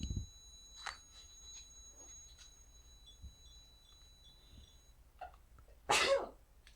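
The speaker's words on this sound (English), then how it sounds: "Sneeze." A single sharp sneeze bursts out near the end of an otherwise quiet stretch with faint breaths and small noises.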